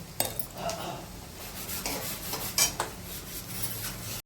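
Partly cooked rice is scooped out of a pot for chicken biryani after the gas is switched off. Close scraping and rubbing is broken by a few sharp metallic clinks of a spoon against the pot. No voices are heard.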